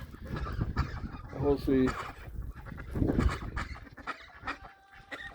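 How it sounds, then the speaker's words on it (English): Chickens, turkeys and guinea fowl gather outside their coop on a snowy farm day, with close honking, gobbling and clucking calls. A person says a few words among them. "I don't know why the chickens and the turkeys are out of their little coop."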